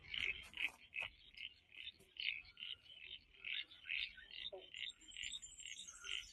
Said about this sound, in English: I just found this lovely spot where there's frogs. So many frogs.